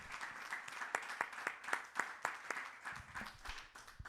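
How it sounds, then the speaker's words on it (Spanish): A church congregation claps in a steady, fairly fast rhythm, the blended applause heard at a moderate distance and turning more scattered toward the end. "Dele una ofrenda de palmas al Señor."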